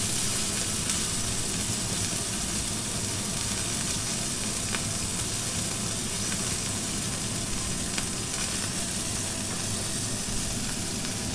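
Beef sears in hot oil in a skillet for beef Wellington after being flipped, giving a dense, continuous sizzle with a crackling hiss throughout.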